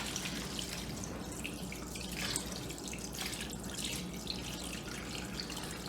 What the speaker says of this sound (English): take our brine and pour that right over